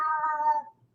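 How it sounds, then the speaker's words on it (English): A cat meows once, a loud, drawn-out harmonic cry close by that fades away over about three quarters of a second, heard alone indoors. "Sorry, my cat's gonna be loud."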